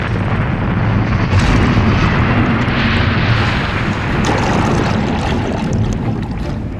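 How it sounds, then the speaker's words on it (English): Helicopter flying low over the sea with its engine failing, heard as a loud, dense roar of engine and rushing wind, steady and close throughout with no voices. "Suddenly, your helicopter engine fails."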